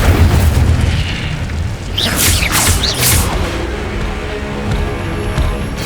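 Hogwarts Legacy's Incendio fire spell blasts in a dense, roaring burst near the middle, with whooshing flares cutting through a loud, steady wash of battle ambience.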